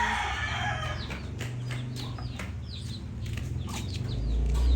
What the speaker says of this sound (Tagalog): May sisiw dito. May sisiw.